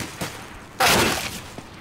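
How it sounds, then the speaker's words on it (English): A single gunshot from an enemy player using a trigger bot in CS:GO, a sharp broadband crack at close range followed by a short fading tail, alone with no talk. "Crosshair goes over enemy and he shoots."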